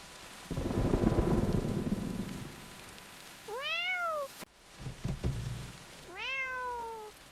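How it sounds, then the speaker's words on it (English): A small kitten gives two clear, rising-and-falling meows close by, separated by a few seconds, over a background of rumbling thunder and rain. "Look, poor little kitten."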